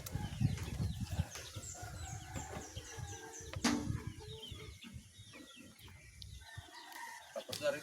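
Chickens cluck and a rooster crows amid a busy farmyard, with wings flapping and scattered bird calls around them.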